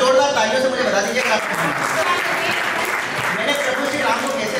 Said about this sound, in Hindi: एक बार जोरदार तालियों से मुझे बता दीजिए